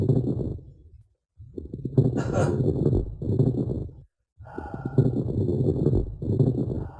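Slow, deep breaths heard close up as if through a stethoscope, several long rustling inhales and exhales separated by brief quiet gaps.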